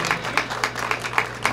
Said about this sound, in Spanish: Fortísimos aplausos para los que han ocupado el primer puesto en el concurso